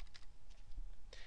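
Keys tapped on a computer keyboard during work in Microsoft Office 2010, a short run of close, light clicks with a brief louder burst near the end, no voice.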